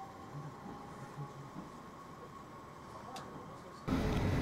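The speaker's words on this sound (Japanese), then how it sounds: "メディアを含む多くの人に見送られながら N ライナーの一番列車が出発です" The first Nishitetsu N Liner paid-seat train pulls away at night, heard as a low rumble under faint crowd murmur. A sudden louder wash of noise arrives near the end.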